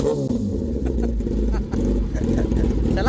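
A Kawasaki Z900 superbike's inline-four engine revs up close in short, loud bursts with brief dips between them, and voices mix in around the engine.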